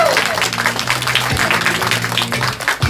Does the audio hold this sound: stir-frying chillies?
no